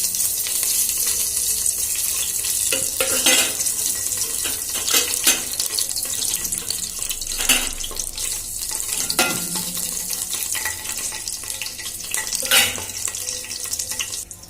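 Palav spices crackle in a few spoonfuls of hot oil, a steady, fairly loud sizzle with repeated scraping stirs of a spoon against the pan.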